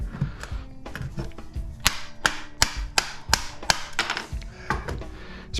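Sharp metallic hammer blows break apart an industrial circuit breaker, a dozen or so close, loud impacts in an uneven rhythm with scraping and clatter between strikes.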